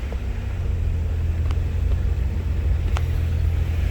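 A 1994 Toyota 4Runner 4x4 with a push bar runs on a test drive, its engine giving a steady, low rumbling drone from inside the cab as it moves through the gears.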